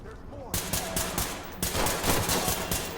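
Rapid bursts of gunfire in the tactical shooter Ready or Not, loud sharp shots starting after a brief quiet moment and continuing in clustered volleys, with a voice speaking briefly.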